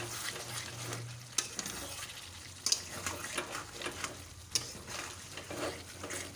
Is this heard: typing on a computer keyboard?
no